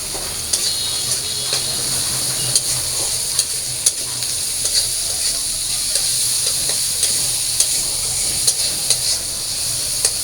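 Prawns fry in a pan with onion and green chilli, a continuous bright sizzle and hiss broken by regular scraping stirs of a utensil against the pan, close and steady without talk.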